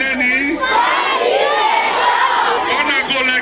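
A crowd at a political rally roars with frenzied shouting and cheering, a loud continuous wall of voices swelling and holding for a few seconds.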